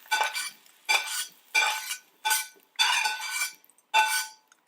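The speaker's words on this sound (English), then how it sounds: "Now I add the roasted carrots to the sauce." Roasted carrots are tipped into a pot of tahini sauce for a medieval Egyptian vegetable dish, making six separate bursts of clinking, scraping and stirring against the pot, each lasting under a second, close and fairly loud with short pauses between.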